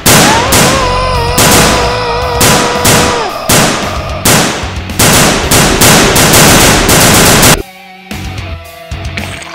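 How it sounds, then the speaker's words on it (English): Toy army men blast away at a zombie arm with cartoon gunfire, very loud rapid bursts of machine-gun shots repeating in quick volleys, then cutting out sharply near the end. "Well, shoot him. Shoot him a lot. Keep shooting"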